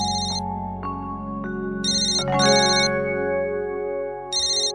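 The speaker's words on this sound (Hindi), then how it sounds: "किसका फोन बज रहा है?" A mobile phone rings loudly with a repeating electronic melody in short bursts over a sustained tonal background, no voices present.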